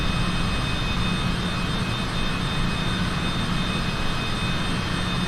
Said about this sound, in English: So you guys can hear those beautiful engines.